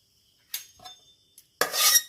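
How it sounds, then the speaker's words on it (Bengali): Boiled banana flower poured from a pan into a perforated plate set over a bowl, a few brief metallic clinks and scrapes followed by a short wet splashing rush, with no talk. "এবার একটা বাটির উপরে একটা ফুটো থালা বসিয়ে দিয়েছি, এইটাতে ঢেলে নেব।"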